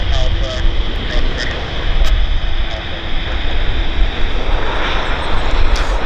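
An Airbus A350 touches down on runway 26 right at Vancouver airport, its jet engines roaring loudly and steadily throughout with broad rumbling noise and a rising rush toward the end.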